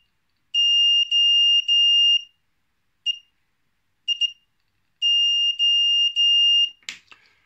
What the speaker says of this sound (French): Vous voyez là, j'ai changé le buzzer.